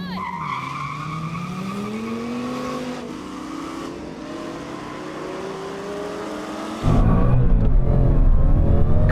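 A Ford Mustang GT and a Dodge Viper at a drag race launch, one loud engine revving with rising and falling pitch, then a sudden harsher roar of acceleration and tire noise near the end.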